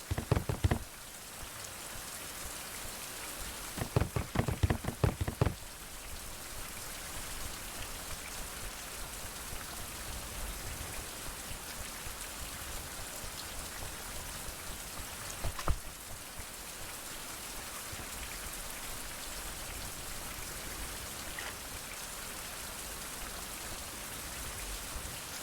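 Steady rain pours in a video game, a constant dense hiss of drops on surfaces running throughout, with a few brief crackling bursts near the start and a sharp tick midway.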